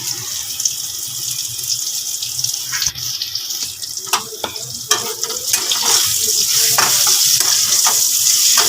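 Potato and pumpkin curry is stir-fried in a pan, a close hissing sizzle with scraping stirring clicks that grows louder and more continuous toward the end.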